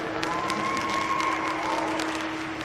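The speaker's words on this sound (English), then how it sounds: "let's give a big round of applause to our steer superintendents" Audience clapping and some cheering at a county fair junior beef and steer show, a brief round of applause heard in a large arena with a faint steady tone underneath.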